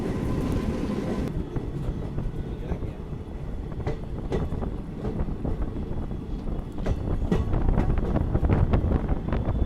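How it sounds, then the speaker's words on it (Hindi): A New Delhi-Howrah special train slowing and halting at Mirzapur station, a loud, continuous rumble of wheels and carriage with rattling clanks and wind buffeting the microphone, heard from onboard. "हमारी ट्रेन का हॉल्ट है मिर्ज़ापुर में।"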